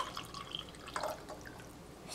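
Warm water is poured into a cup holding two eggs for a kitchen science experiment, giving quiet trickling and dripping splashes in short bursts, close by and soft.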